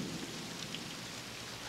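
Steady rain falls in an even wash of hiss, soft and constant throughout with no voices.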